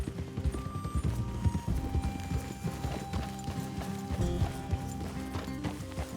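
Horses' hooves clip-clop steadily on the ground in Red Dead Redemption 2, a close, rhythmic run of hoofbeats with mechanical creaks and an occasional whinny beneath.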